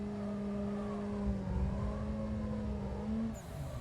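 A racing sim car's engine holds a steady revving drone through a clutch-kick drift in third gear, its harmonics rising slightly, played on a Simagic Alpha Mini wheelbase, loud and continuous with no talk.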